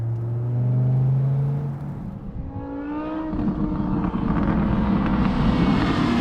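A BMW M6 with a six-speed manual and a V10 engine runs a straight-piped exhaust with the dumps closed. It gives a loud, close, muffled rev that drops and then climbs again into a steady, rising drone.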